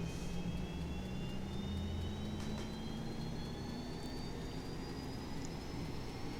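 Turboprop engine of an Aerobask E1000 in X-Plane spooling up during start, a steady loud drone with a thin whine that climbs slowly in pitch throughout.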